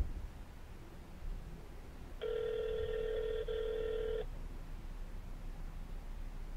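A telephone ringback or ring tone during an outgoing call, one steady electronic tone lasting about two seconds over a quiet, noisy room.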